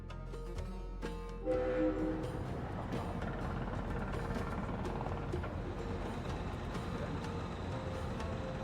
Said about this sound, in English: Das muss irgendwie eine Dampfsonderfahrt sein.